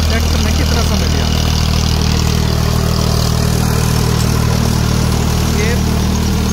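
A Farmtrac 45 tractor engine runs in a field, a loud, steady, close diesel drone with no change in pace.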